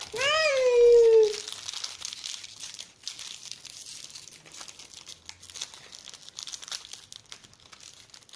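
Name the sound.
opening a plastic toy surprise bag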